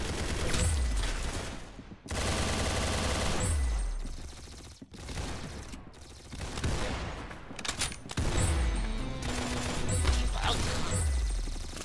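Rapid video-game gunfire in Roblox Arsenal, dense bursts of shots repeating almost without pause, with a few brief gaps and crashing impacts, loud and close throughout.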